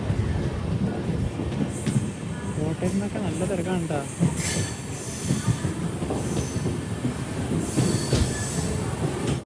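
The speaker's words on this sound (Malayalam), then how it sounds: "നാല് 54 ട്രെയിൻ ഇതാ കോട്ടയം റെയിൽവേ സ്റ്റേഷനിലേക്ക് എത്തുകയാണ്" Amrit Bharat Express pulls into platform 1 at Kottayam railway station, wheels squealing and carriages clattering loudly and close by, while someone talks over the rumble.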